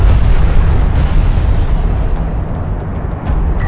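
A turret post explodes in the Homeworld: Deserts of Kharak battlefield, a loud, sustained rumbling blast with heavy low-end debris that slowly decays over several seconds.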